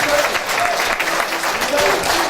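A live-show crowd applauds for Vincent, a loud, dense, continuous patter of many hands clapping close by, with faint voices mixed in.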